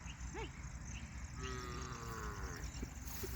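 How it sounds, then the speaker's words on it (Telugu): Cows grazing on open pasture give a long, low moo at a distance, faint over steady outdoor wind and ambient noise. "అన్ని ఆవులను మేపుతున్నాం చూడండి."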